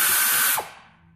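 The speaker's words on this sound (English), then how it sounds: "Here at the shop, we use a lot of air tools." A pneumatic air tool with a 10 mm socket spins off ignition coil bolts on a Chevy Cobalt engine, a loud close whir lasting about half a second before cutting off and winding down.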